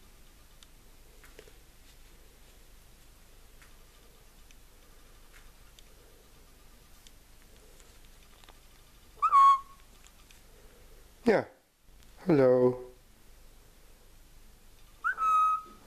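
A pet parrot gives a few short, bright whistles after a long quiet stretch, the calls clear and close. They come in brief separate bursts, with a brief spoken greeting among them.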